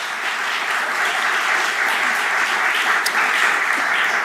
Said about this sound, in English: Go ahead and applaud, that's fine.